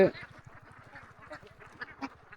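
Free-range ducks on a river give a string of quick, rhythmic quacks and calls, close and fairly loud, with a brief burst of talk at the start.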